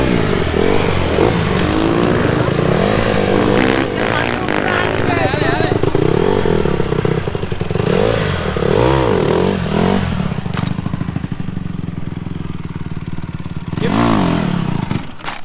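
A kid's dirt bike engine runs nearly continuously, revving up and down in loud wavering pitch with rattling clatter, close by, while people talk over it.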